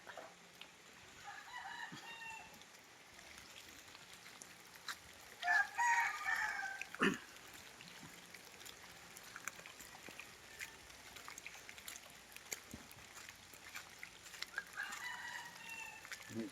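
Chickens and a rooster in a rural Bicol yard after typhoon damage, with a loud crow bursting out mid-clip over a steady backdrop of scattered clucks and faint outdoor noise.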